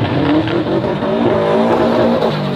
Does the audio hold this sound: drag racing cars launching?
yes